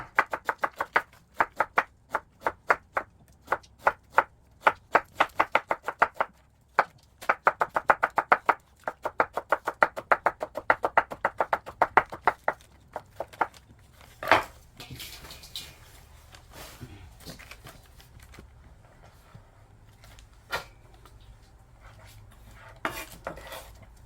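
Rapid, crisp crunching and knife taps in bursts as a crisp, juicy radish is cut, close up, giving way to slower chewing crunches and a few sharp clicks toward the end.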